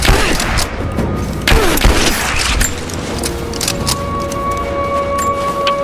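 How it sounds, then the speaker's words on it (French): Gunfire during combat against a witch in the video game Rise of the Tomb Raider: loud bursts of shots and booming impacts, followed by a steadier mechanical drone, with no talking. "J'ai subi des tirs! Je me fais canarder!"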